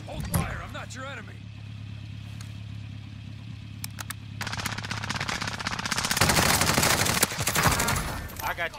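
Rapid automatic gunfire in a Resurgence trios shooter match, a quiet stretch then loud sustained bursts near the end, with players talking over it.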